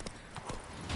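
Geralt's horse Roach gallops in The Witcher 3 on PS4, with quick, close hoofbeats pounding in a rapid rhythm over a short burst.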